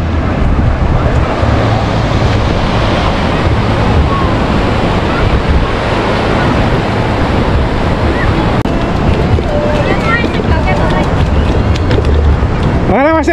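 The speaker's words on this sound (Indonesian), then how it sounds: "Ombaknya tinggi banget ya guys, iya, ya. Tinggi banget." High ocean waves crash at Pulau Merah beach in Banyuwangi, a loud, constant roar of surf thick with wind buffeting the microphone, while people talk nearby.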